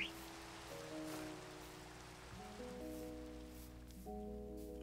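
Steady rain patters softly on a surface while quiet, sustained musical tones play underneath, with a hushed, even background.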